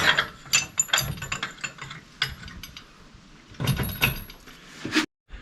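Close, loud clicking of a ratchet wrench tightening a bolt on a Kubota BH77 backhoe subframe fitted to an LX2610 tractor, in repeated bursts of strokes with brief pauses and a sharp metallic clunk near the end.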